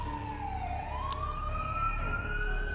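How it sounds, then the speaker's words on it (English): Police siren wailing outside, a single rising and falling tone at moderate distance over a low steady traffic rumble. "Police sirens outside. Not part of the game."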